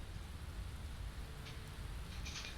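Steady rain falling in the video game Skyrim, a dense continuous hiss of drops with a low rumbling wash beneath, heard alone and at moderate level throughout.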